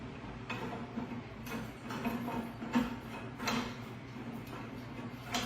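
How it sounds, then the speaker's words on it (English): A bolt with a washer is screwed into the frame of an ANCHEER E650 elliptical machine, giving a run of small close metallic ticks and scraping clicks at an uneven rhythm. "let's put our other washer on, and then let's just screw it in"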